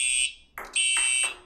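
A fire alarm sounds inside a Chuck E. Cheese's restaurant, loud piercing electronic tones in two bursts broken by a short gap, with a rough lower buzzing pulse beneath.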